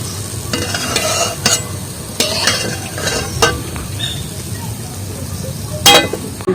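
Palm fruit fritters (taler bora) frying in hot oil during the rainy season. The sizzle holds steady, with several sharp clinks and stirring bursts from the pan.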